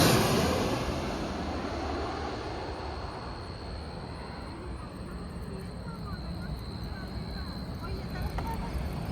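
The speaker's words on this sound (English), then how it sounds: "here comes another plane. Let's see what airline that is. Another Air Canada Express." An Air Canada Express airliner passes overhead near a landing approach beside a creek trail, a broad steady roar that swells at the start and holds throughout, with a faint voice speaking over it.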